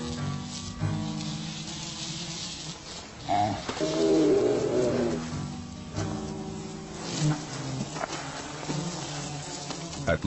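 Insects buzz and drone close by in warm outdoor conditions, the whine swelling and fading over several seconds while a person speaks nearby.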